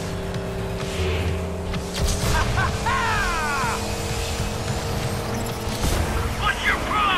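Race car engine from a racing video game, a steady droning whine with rising and falling pitch sweeps as the car shifts and accelerates, with a commentator's voice intermittently over it.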